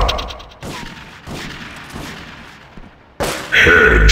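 Gunfire from a GTA 3 multiplayer video game during a clan attack: loud bursts of shots with echoing booms, a dense rattle in the middle and a sharp, heavy blast near the end.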